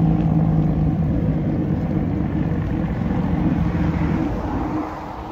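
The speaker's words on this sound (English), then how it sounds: "There he goes again, on his engine brake." A vehicle on a road detour near Fremantle's traffic bridge roars with a steady, loud engine-brake drone that holds for several seconds before easing off toward the end.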